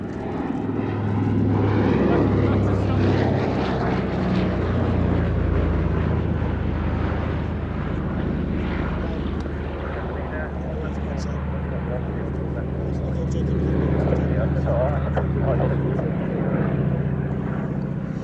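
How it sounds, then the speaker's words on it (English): A Consolidated Canso (OA-10A) amphibian flies past at an air show with its wheeled undercarriage lowered, its piston engines a loud, sustained drone that swells and eases while a commentator talks over it. "Pass now with the wheeled undercarriage down, or at least half of it at the moment."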